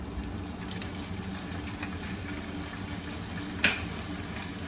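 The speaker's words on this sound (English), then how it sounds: "you can hear the sizzle straight away" A quiet, steady sizzle of prawns frying in a pan, with a single sharp clink of a utensil partway through.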